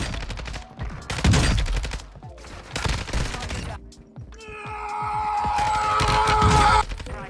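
Pistol gunfire in the Warzone video game, with bursts of rapid shots in clusters across the clip and a longer sustained volley near the end, loud and close, with faint voice underneath.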